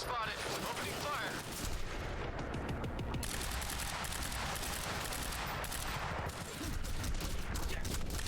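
Gunfire from a firefight in the video game Quantum Break: a dense, continuous barrage of overlapping shots and automatic bursts, loud and unbroken across the whole stretch, with a brief dip before the volley intensifies again.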